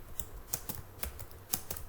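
HTML code is being typed on a computer keyboard, with crisp, close keystrokes tapping out at an irregular pace across a couple of seconds, a few landing harder than the rest, and no voices.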